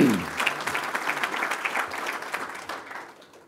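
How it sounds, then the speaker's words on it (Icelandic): A golf association assembly audience gives a round of applause for newly named court members, dense steady clapping from a hall crowd that fades out toward the end. "Og gefum þeim gott klapp"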